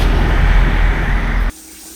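Water from a truck stop shower at a QuikTrip sprays steadily as a loud, close, broadband hiss, then cuts off abruptly near the end.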